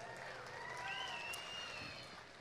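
A crowd applauds at the Spanish Fork's Got Talent show during Fiesta Days 2024, a steady wash of clapping with a few whistles, fairly faint and distant.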